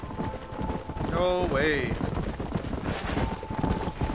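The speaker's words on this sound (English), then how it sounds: "There's the horses." Horse hooves clip-clop across open ground in the Western video game Red Dead Redemption, a steady rhythmic patter under game music and a brief whinny, with people talking over it.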